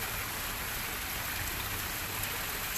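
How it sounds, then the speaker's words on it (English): Water in a garden pond in a front yard on a cool evening, a constant soft wash of flowing and splashing water, faint and even, with no voices. "The sound of the water is so incredibly soothing."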